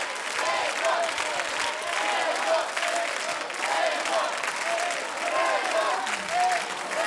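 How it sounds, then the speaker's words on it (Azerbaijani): Loud, sustained applause from a studio audience at a televised singing contest, a dense field of clapping filling the whole stretch without pause as a contestant leaves the stage. Voices call out faintly within the clapping. "Seymuru gürültülü alqışlarla yola salaq, uğurlayaq"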